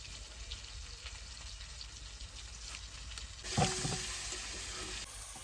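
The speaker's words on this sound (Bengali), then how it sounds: "গলদা চিংড়ি ভাজা হয়ে গেছে" Giant freshwater prawns fry in hot oil with a soft, steady sizzle that swells suddenly into a louder crackling burst partway through, heard close with no talking.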